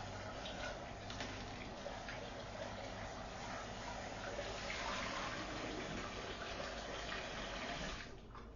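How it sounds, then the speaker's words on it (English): Running water rushing steadily into a container as it is rinsed out at a kitchen sink, a faint, even wash of sound that cuts off near the end. "Kind of rinse that out a little bit"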